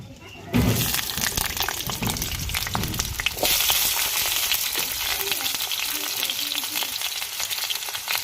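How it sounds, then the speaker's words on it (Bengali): Potatoes dropped into hot oil set off a loud, steady frying sizzle that swells sharply partway through and keeps hissing, with a brief voice heard near the start. "তেলটা গরম হয়ে গেছে, আমরা আলুটি দিয়ে দেব"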